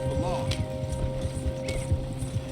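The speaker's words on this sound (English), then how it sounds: "Horses won't go this fast for long." Horses gallop in Red Dead Redemption 2, a rapid rhythmic clatter of hooves that runs throughout with a snort or whinny near the start, under a low hum and spoken dialogue.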